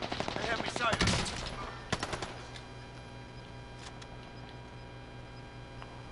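Heavy automatic gunfire in a battle royale video game, dense rapid bursts up front that thin to scattered distant shots over a steady ambient bed, with no talk.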